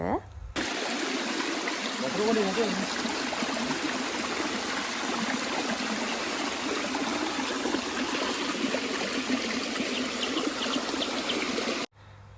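A small stream on a cool hillside walking trail flows in a continuous bright trickle, steady and fairly close for the whole stretch, then cuts off abruptly near the end.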